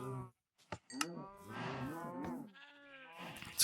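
Sheep and cows in a Minecraft farm pen, several close bleats and lowing moos overlapping in quick succession, with short pauses between calls.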